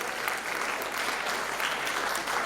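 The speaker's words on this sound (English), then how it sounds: "Keep clapping for him." A conference audience at a WAEC conference in Freetown, Sierra Leone applauds the top candidate with dense, continuous clapping that stays even throughout and has no speech over it.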